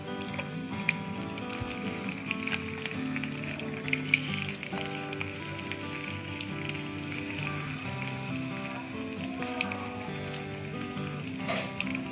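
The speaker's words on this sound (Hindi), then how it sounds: "अब मैं इसको फ्राई करती हूँ।" Marinated fish frying in hot oil for a Pakistani fish fry, a continuous dense crackling sizzle with small pops, steady and close throughout.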